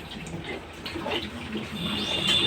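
A pet lapping up water in rapid, steady wet splashes, close and fairly loud throughout and growing a little stronger toward the end.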